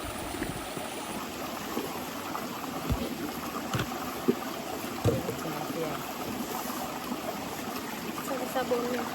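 Outdoor river water rushes and burbles continuously in a Jamaican countryside setting, a broad steady wash of flow with occasional splashes and faint voices underneath.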